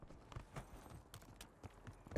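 Footsteps in the video game Call of Duty Warzone on Black Ops 6's Area 99 map, a series of soft, irregular steps with light clopping impacts, faint and subtle, ending on a louder thud.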